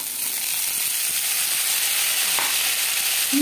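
Potatoes and cauliflower stir-frying in a pan give off a steady, close sizzle and hiss, with faint scraping from stirring and a brief clink near the end.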